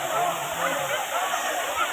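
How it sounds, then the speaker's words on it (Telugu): Thalakona waterfall plunging from a great height, a steady broadband roar of falling water heard from close by, constant and unbroken for the whole moment. "చాలా ఎత్తు నుంచి వాటర్ కిందకి పడతాయి. వాటర్ ఫాల్ అయితే అదిరిపోయింది."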